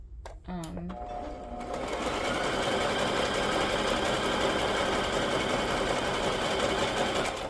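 After a few clicks, a sewing machine stitches through a paper journal card decorated with tea bags, running in a steady, fast, close whir that holds to the end.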